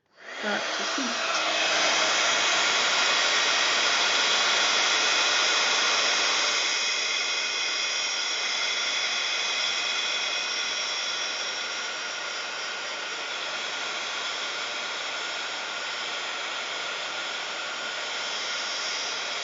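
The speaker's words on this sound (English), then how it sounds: "Put your project down, and then start to heat." A heat gun blows over embossing powder on a parchment craft project, a loud continuous roaring whoosh that starts abruptly and holds steady for its whole length, easing a little in level partway through, with no talking.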